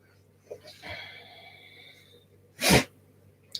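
A single loud, close sneeze bursts out after some quiet sniffing and breathing, followed by a brief faint snort.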